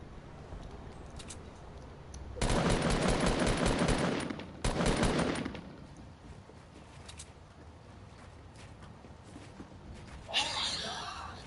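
Video game gunfire: two loud bursts of rapid automatic shots, each a few seconds long, with a shorter burst near the end over a quiet background.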